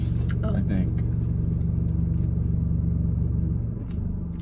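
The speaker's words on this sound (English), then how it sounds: "You're gonna hear the car." A car engine rumbles steadily and close by, a low constant drone that dips slightly near the end, with voices talking over it.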